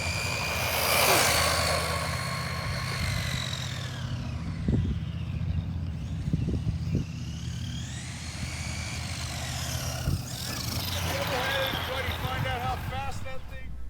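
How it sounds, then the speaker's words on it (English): A Redcat Blackout XTE PRO RC car on a 3S LiPo runs at full throttle, a high motor whine sweeping up and down in pitch as it passes, with scattered knocks and continuous background noise. "Full throttle on it here."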